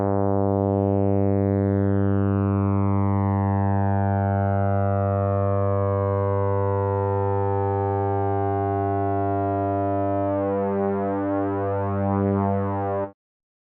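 Synthesized airplane propeller effect: a steady, loud, buzzing drone with a strong pulsing harmonic texture that holds throughout, then develops a beating, phasing wobble near the end before cutting off abruptly.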